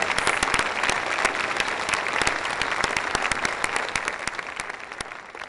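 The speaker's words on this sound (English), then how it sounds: "please join me in a round of applause" Steady, sustained applause from a school board meeting audience honoring high school scholars, many hands clapping evenly at moderate volume for several seconds with no talk over it.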